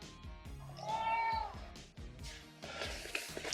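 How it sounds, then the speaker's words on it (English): A cat gives one clear, drawn-out meow close by, set among soft indoor shuffling and small knocks in a quiet room. "Look at these cats."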